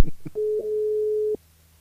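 Line tones as a radio show's studio switchboard calls a listener back: a few quick clicks, then a single steady electronic tone held for about a second before it cuts to silence.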